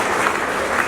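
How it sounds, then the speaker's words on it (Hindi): Audience applause in a hall during a yoga session, a dense steady wash of many hands clapping at once, loud and continuous through the brief moment. "दोबारा ताली हो जाए"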